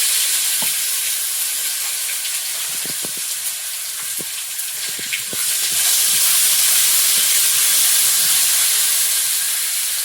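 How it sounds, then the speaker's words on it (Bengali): Panch phoron, a bay leaf from a home-grown tree and ginger paste frying in hot oil, a loud, close, steady sizzle and hiss that swells louder partway through, with faint clicks of stirring and no talking. "তেল দিয়ে একটু পাঁচ ফোড়নের মধ্যে বাড়ির গাছের তেজপাতা"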